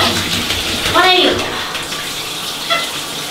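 Water pours from a tap into a bathtub, a steady close splashing rush that runs through the whole stretch while a person talks over it in short bursts.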